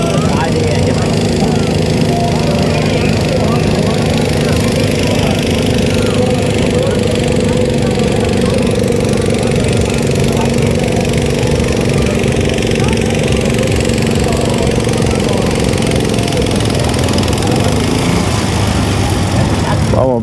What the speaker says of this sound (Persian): آقا اینجا تراکتورهای چیزای سنگینی رو باید به زور بکشن